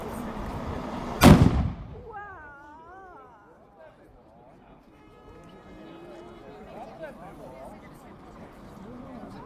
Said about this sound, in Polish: prosimy o wystrzały armatnie na część Globasa.